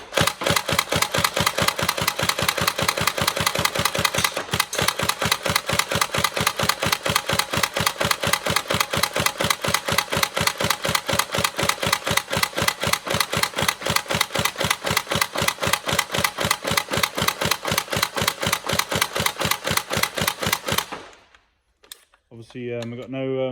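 A TM SCAR-H NGRS airsoft electric gun fires a long, rapid full-auto burst, a steady mechanical rattle that runs for about twenty seconds before cutting off, followed by a few brief clicks and handling noises.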